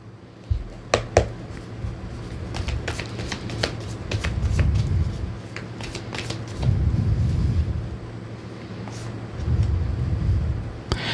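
Tarot cards are shuffled by hand, giving a series of crisp riffles and flicks, with a few soft low rumbles underneath.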